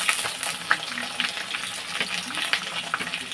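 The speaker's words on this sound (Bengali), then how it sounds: "সেই সাথে আমি দিয়ে দেবো কাঁচা লঙ্কা চিড়ে রেখেছি, ওটাও আমি দিয়ে এটাকে একটু ভালোভাবে ভেজে নেব" Chopped onion, garlic and slit green chillies fry in oil in a pan for an egg bhuna khichuri, giving a steady soft sizzle broken by repeated light stirring clinks and scrapes.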